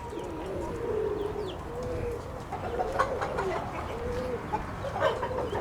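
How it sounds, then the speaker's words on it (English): White homer pigeons at a loft, with soft, repeated cooing and some fowl-like clucks against a constant low rumble of background noise, faint and somewhat distant. "They're selling pigeons. All this loft. They got white homers."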